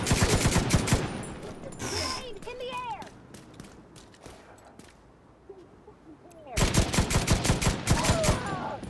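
Weapon fire in The Division 2 video game: dense, rapid automatic bursts at the start, a quieter stretch of scattered shots and game noise, then another loud, sustained volley near the end, with a voice talking at times.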